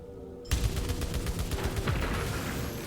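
A gun in Returnal opens up after a short silence and fires continuously: a fast, steady stream of loud, punchy shots with a thick, booming low end that never lets up.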